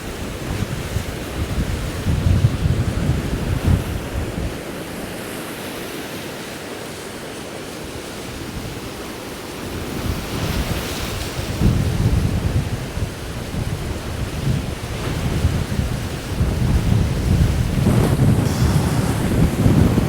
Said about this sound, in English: this is just getting a bit fierce. The wind's picked up